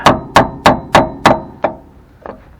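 Metal-on-metal hammer blows striking a front sway bar on a Ford Explorer: five sharp, evenly spaced strikes close up, then two weaker, more scattered hits trailing off.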